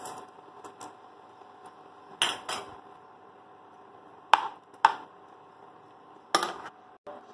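Rice for veg pulao is stirred in a pot, giving a few separate sharp scrapes and knocks of a spoon against the metal over a quiet background, with no talk.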